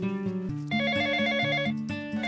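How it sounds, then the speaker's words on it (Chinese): A ringtone plays as a bright electronic melody of stepped tones, steady and moderately loud, with no speech over it. "接电话吧"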